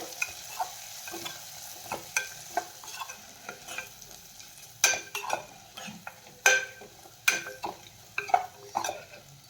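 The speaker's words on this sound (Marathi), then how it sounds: "आता मसाले छान आपण परतून घेऊया" Red chili powder, coriander powder, garam masala and turmeric sauté in a pan for paneer matar pulao: a soft, low sizzle punctuated by a dozen or so sharp, irregular spatula scrapes and taps against the metal, with no talking.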